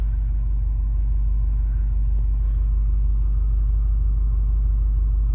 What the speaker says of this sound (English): see how she's running at idle now